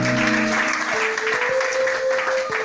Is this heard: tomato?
no